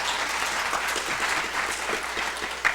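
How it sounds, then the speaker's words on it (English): An audience at a keynote gives sustained applause, a broad, even roar of many hands clapping at once that holds steady for the whole stretch without a break. "Please give them a round of applause because they are exceptional"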